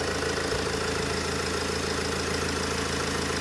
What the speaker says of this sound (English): we're going to do a voltage test just to confirm that the alternator is indeed